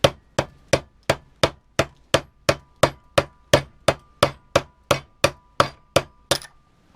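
Steady, evenly paced hammer blows ringing on a drill bit used as a punch in a two-stroke spark plug, about eighteen sharp strikes in a row, close and loud, with no talking.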